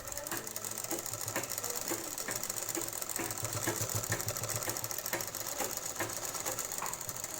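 A sewing machine stitches a blouse, a fast steady mechanical ticking and whirring running continuously at moderate volume with no voices.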